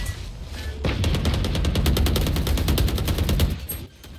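Rapid automatic gunfire from a Valorant match rattles out in a dense, evenly spaced burst of loud, close shots lasting nearly three seconds before cutting off abruptly into quiet.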